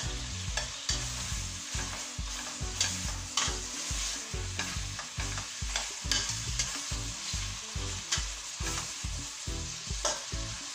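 Portuguese stew with chorizo and olives fries over very high heat, a steady close crackling sizzle with bursts of stirring running throughout, with no talking.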